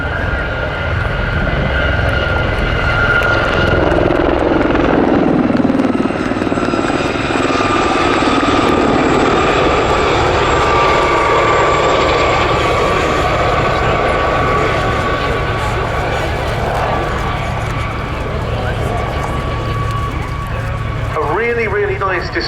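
A formation of Westland Gazelle helicopters passes at an air show, a loud, steady rotor and turbine roar with a sweeping pitch that holds throughout, while an announcer talks over it.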